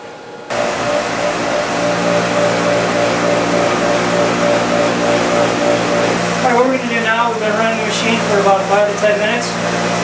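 A DS40 powerflushing machine running water through a hydronic system's heat exchanger, a loud steady motor hum and whir starting abruptly, with a person talking over it in the second half.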